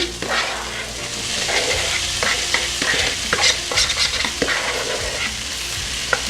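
Tofu hitting a hot pan and frying, a loud, continuous sizzle with repeated scraping and clattering as it is pushed around with a utensil.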